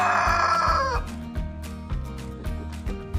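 A rooster crows loudly for about a second, followed by a series of rhythmic low clucks and thumps, likely from a children's farm animal toy or recording.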